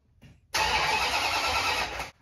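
A 1969 Dodge Super Bee with a 440 Six Pack V8 cranks briefly, then fires and roars loudly and up close for about a second and a half before shutting off abruptly.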